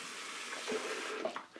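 Soap bar rinsed under a running tap at a sink, a short steady stream of water with faint splashing, heard close and quiet.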